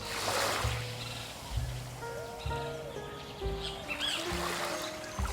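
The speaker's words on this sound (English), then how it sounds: "Listen to the birds." Bird chirps and calls from a video game's ambient soundtrack, over a steady outdoor ambience with low rumbling swells, birds moderately close and intermittent.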